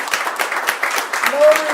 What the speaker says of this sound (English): I think we ought to give Jennifer a big round of applause